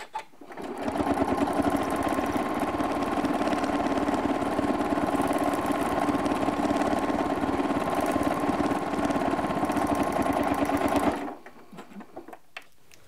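A sewing machine stitches free motion quilting in one continuous loud, even run of rapid needle hum lasting about ten seconds, then stops, leaving faint handling noises.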